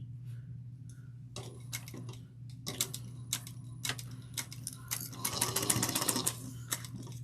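A sewing machine stitches a bag with backstitching, its rapid ticking needle coming in short bursts and then a longer continuous run over a constant low motor hum, close up.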